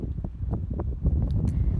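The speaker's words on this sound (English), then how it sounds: "As you can probably hear, it was a very windy day." Strong seaside wind buffets the microphone in low, uneven rumbling gusts for a couple of seconds.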